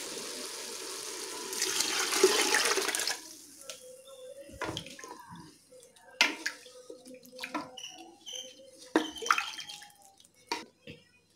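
Water and a yogurt mixture are poured into rice for mutton biryani, heard as a close, steady splashing pour for a couple of seconds, followed by quieter scattered clinks and taps of utensils.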